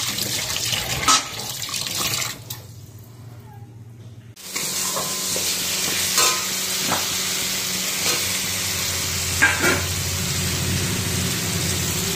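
Bombay duck fish cooking in a pan with plenty of released liquid, a steady sizzling bubble with occasional stirring scrapes, briefly interrupted by a short silent gap before resuming.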